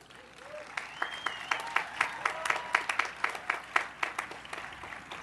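Graduation audience at a Springfield College baccalaureate ceremony breaking into applause that swells in rhythmic waves of clapping, fairly distant and spacious, with faint whoops and cries rising above it.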